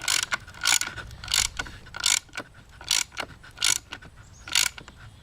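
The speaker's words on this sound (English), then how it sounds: "Take our ratchet, crank it down." Ratchet cranking a bolt down into a T-nut with a fender washer on a carry plate, giving repeated bursts of clicking in a steady rhythm, close and clear with no talk.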